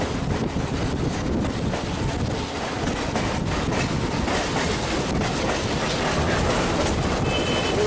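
A passenger train at Jim Thorpe, heard from an outside car at the end of the train, rumbles steadily along the rails with rhythmic clacking and heavy wind buffeting, loud and close, with no voices.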